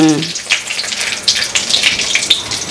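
Bay leaves and dried red chillies crackle and sizzle in hot oil in a wok, a steady close fizz dotted with sharp spits and pops, with a brief voice at the very start.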